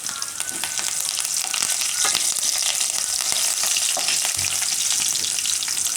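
Curry leaves crackle and sizzle loudly as they drop into hot oil for a Gujarati green chickpea pulao, a dense continuous frying hiss with sharp pops and a few stirring scrapes, close and steady throughout.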